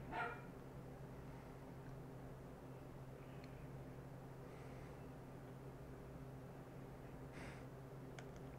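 Dogs bark in short, faint bursts far off, with a yip at the start and a couple more barks later over a low, constant hum.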